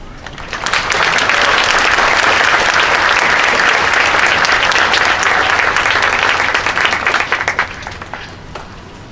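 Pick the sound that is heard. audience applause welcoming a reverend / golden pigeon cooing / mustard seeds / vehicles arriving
audience applause welcoming a reverend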